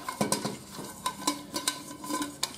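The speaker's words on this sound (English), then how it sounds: "So I've got my fry pan out." A frying pan from a camp cookware set is handled and set down, giving a series of sharp metallic clinks and clatters in an irregular rhythm. The sounds are close but fairly quiet, with no talking.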